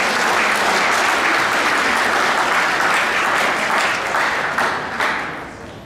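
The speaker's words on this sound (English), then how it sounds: "Please give the volleyball team a round of applause." A school assembly audience gives the volleyball team a full round of applause, dense steady clapping that gradually thins and fades toward the end.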